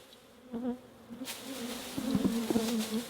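Honeybees buzz steadily up close at a hive, a dense humming drone with individual insects swelling louder as they pass near.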